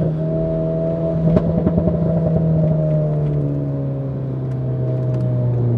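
A Peugeot 308 GTI passes on the Nürburgring, its engine a steady loud drone with a slowly falling pitch as it goes by, some faint clicks over it and no voices.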